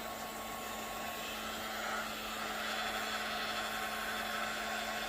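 Heat gun blowing hot air to melt wax on a gouache canvas painting, a steady close whirring roar with a constant hum that holds evenly throughout without a break.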